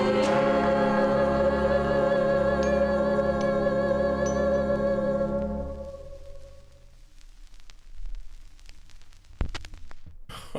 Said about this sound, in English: July 1963, Gloria Brown on the Checker label, Happy Birthday.